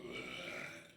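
A short, low, rumbling burp sound effect from the video game Lakehold 2 lasts about a second and fades out at the end.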